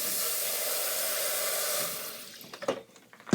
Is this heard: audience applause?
no